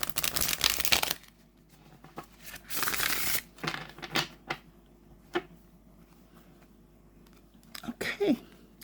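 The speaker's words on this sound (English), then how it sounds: "they are quite easy to shuffle" A deck of playing cards is shuffled in two quick riffling bursts, followed by softer, scattered handling clicks and taps of the cards, close up and quiet between bursts.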